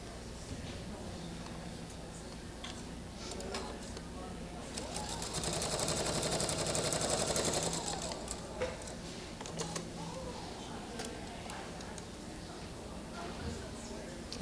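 Sewing machine stitching quilt pieces cut with a polygon tool, a steady mechanical run swelling louder mid-clip then easing back, with someone talking over it throughout.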